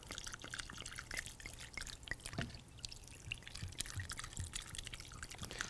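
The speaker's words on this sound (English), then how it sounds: "And I'm going to put enough wine in here until the liquid reaches about 3/4 of the way" Chardonnay wine poured from a bottle into a pot over a turkey, a continuous faint splashing trickle with small drips, close and steady, with no talking.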